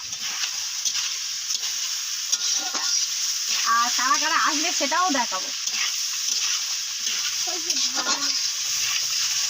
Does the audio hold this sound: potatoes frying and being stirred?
yes